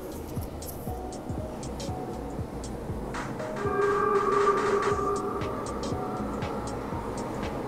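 A Sendai Subway Namboku Line 3000 series train rumbles past with rhythmic wheel clatter on the rails, growing louder midway as a high brake squeal rings out, then easing.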